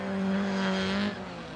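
A rear-wheel-drive Ford Escort rally car roars past on a forest stage, its engine loud and steady with a strong droning tone that drops slightly as it goes by.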